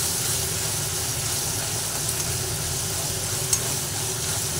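Soybean kofta curry with cashews frying in a pan while being stirred, a continuous close sizzle and hiss with faint scraping, steady and without talk.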